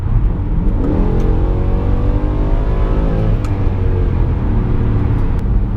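A tuned Mercedes C63 AMG with the M156 engine, pushed past 500 hp, accelerates hard in Sport Plus mode, its engine note rising in pitch through a strong pull and then holding as a loud, close roar over road noise.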